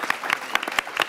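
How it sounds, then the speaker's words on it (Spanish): Dense, lively applause from an audience at a parents' gathering, welcoming two young volunteers from Spain, with a few louder claps standing out near the front. "quiero que recibamos con un fuerte aplauso a Victoria y a David"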